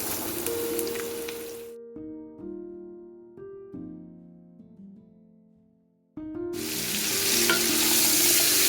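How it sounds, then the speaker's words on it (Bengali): Potato pieces fry in hot oil left from frying hilsa fish heads, a loud steady sizzle that suddenly drops away to a quieter stretch of soft tones, then returns at full strength. "এই তেলের মধ্যেই আলুগুলো ভেজে নেব আমি।"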